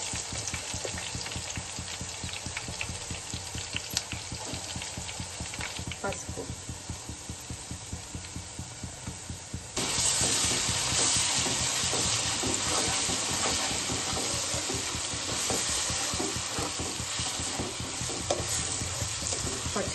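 Ginger garlic paste, curry leaves and browned onion fry in oil for a Telangana-style fish curry, giving a loud, continuous close sizzle with a dense, rapid crackle that grows stronger halfway through.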